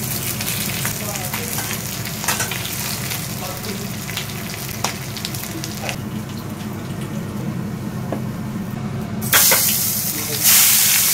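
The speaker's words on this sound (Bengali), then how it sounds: "এরপরে পমফ্রেট গুলো ছেড়ে দেবো চটাচট" Pomfret fish hit hot oil, a steady frying sizzle with occasional crackles that swells into a louder hissing burst near the end.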